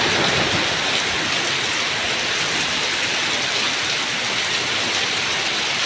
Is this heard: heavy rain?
yes